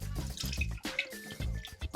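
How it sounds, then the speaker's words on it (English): Tamarind chutney is poured through a strainer and runs and drips in close, quiet, irregular splashes and trickles. "So in order to strain this, just going to pour it in,"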